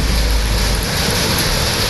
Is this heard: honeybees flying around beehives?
no